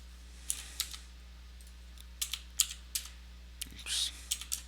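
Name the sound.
typing on a computer keyboard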